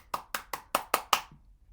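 Six sharp hand claps in an even, quick rhythm, close and fairly crisp, with no talking around them.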